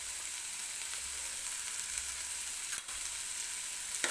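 Tomatoes frying in a pan for a Karnataka-style puffed rice breakfast, giving a continuous, even hiss of sizzling oil at low level, with a couple of faint clicks of a utensil.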